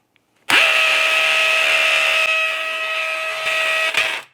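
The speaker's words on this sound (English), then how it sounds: "Let's go ahead and drill this thing." A power drill drilling a hole for a drive pin anchor starts abruptly and whines steadily at a high pitch for several seconds, loud and close, then cuts off.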